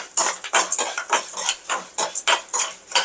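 Cumin seeds and cut ginger tempering in a pan, with a spoon scraping and clinking against the metal in quick regular strokes, loud and close.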